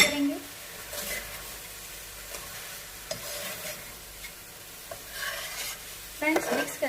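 Chicken with green onion, peas, mushroom and corn is stirred in a pan for creamy pasta, giving a steady sizzle with scraping spoon strokes and a few louder clinks, heard close and moderately loud.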